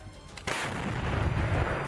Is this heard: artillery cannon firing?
yes